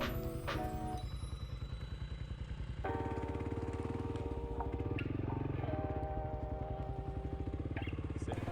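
A Honda motorcycle rides along a road, its engine droning steadily and close throughout, with rising pitch shifts as it changes speed and gear.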